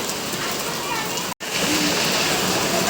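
Heavy rain pouring down outside a house, a dense, steady hiss that fills the whole clip and cuts out for a split second near the middle.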